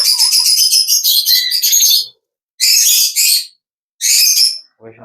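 A pet parakeet (mithu) chirps and whistles in bright, rapid bursts: a long run of trills, a pause, then two shorter bursts, close and loud with no talking over it.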